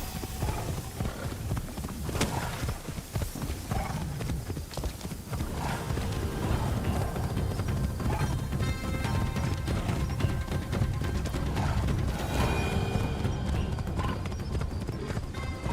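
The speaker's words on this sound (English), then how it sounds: "Bob the dragon! Giddy up, Bob" A dragon mount gallops in a video game, with heavy, steady hoof-like clopping and thuds that continue loudly and evenly throughout, and occasional crashing impacts.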